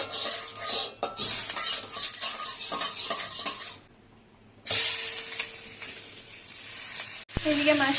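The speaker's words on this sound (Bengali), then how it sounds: "এদিকে মাছটা হালকা করে ফ্রাই করে নিয়েছি।" Fish fries in a little oil in a pan, a bright continuous sizzle punctuated by utensil clinks and stirring, briefly cutting out before resuming close and steady.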